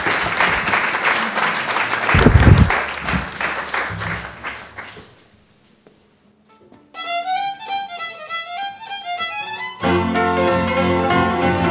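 An audience at a folk dance ensemble's jubilee gala applauds loudly and steadily for several seconds, then the clapping fades into silence before music begins.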